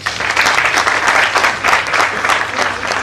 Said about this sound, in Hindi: तो मैं चाहूंगा इनके लिए पुरजोर तालियां हो जाए।